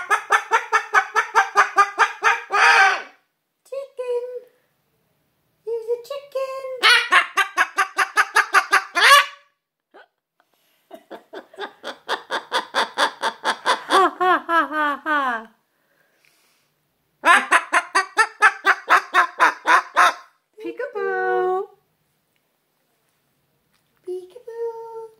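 A cockatoo gives bursts of rapid, chicken-like clucking and honking calls in repeated runs separated by short pauses, fairly close and loud, with a few brief squawks between the runs.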